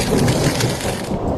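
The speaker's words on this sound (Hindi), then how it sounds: "अरे बाहर तो बारिश भी हो रही है।" Heavy rain pours in a constant loud hiss, with a low rumble underneath that suggests distant thunder, and no talking.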